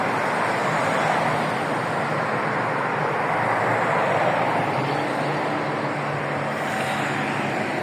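Steady road traffic rumbling through a newly opened underpass on a city road, a continuous dense wash of passing vehicles without clear breaks, fairly loud and close.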